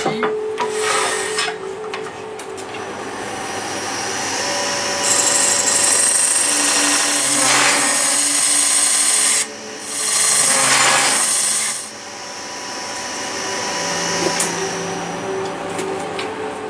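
A lathe tool hollows out a turned cherry wood bracelet, giving a loud, close scraping and rasping cut over the lathe's whine, in several long passes that swell and briefly stop.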